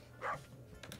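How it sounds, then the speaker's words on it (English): A pet dog gives one short, faint bark at a distance over a low steady background hum. "That's my dog Snooch, by the way."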